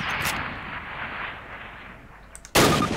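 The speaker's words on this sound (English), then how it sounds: "Let me throw up a Springfield rifle from the table" Springfield rifle fired in the Call of Duty video game, with a sharp loud shot near the start, a long decaying rumble, then a second blast at the end.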